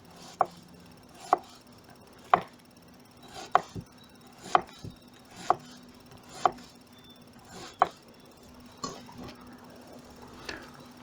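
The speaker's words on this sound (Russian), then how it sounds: "Лучок нарезаем четвертинками." A knife chops onion quarters on a cutting board with sharp, evenly spaced knocks, about one per second, close and clear over a quiet background.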